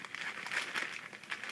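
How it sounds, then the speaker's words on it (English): A plastic bag of chocolate morsels crinkles as it is pushed into another bag, giving a quick run of soft, close rustles and crackles that rise and fall irregularly. "I'm going to take my plastic bag of morsels and put it in another bag"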